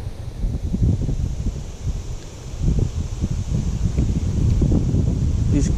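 Strong gusting wind buffeting the microphone during a fishing outing, a continuous loud low roar that swells and eases with the gusts, with no voices.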